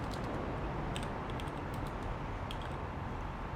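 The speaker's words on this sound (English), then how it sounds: "I don't know why I'm having such a hard time today typing." Rapid keystrokes on a computer keyboard clatter steadily throughout, with clustered sharp clicks over a constant background hum and no talking.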